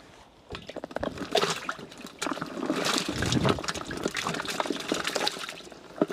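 Water poured onto 20 kg of cotton cake (cottonseed oil cake) to make organic fertilizer, giving uneven wet trickling, splashing and squishing sounds that come in close bursts with short pauses.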